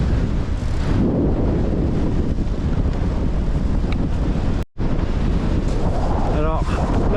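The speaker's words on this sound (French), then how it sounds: "Incroyable ce vent de dingue." Strong gusting wind on a snowy mountain, loud roaring buffeting close against the microphone with a brief cutout midway, and a voice briefly heard near the end.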